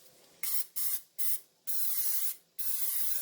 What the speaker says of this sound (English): I'm going to spray them down good.